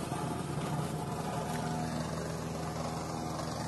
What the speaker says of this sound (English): That's the engine anyway.